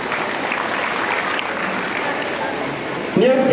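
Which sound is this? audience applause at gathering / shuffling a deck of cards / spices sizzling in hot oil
audience applause at gathering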